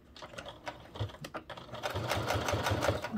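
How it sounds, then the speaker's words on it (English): A sewing machine stitches a piece onto a travel cord organizer, running in short rapid bursts of close mechanical chatter that settle into a steadier, denser run toward the end, with no talking. "So we're going to sew this on."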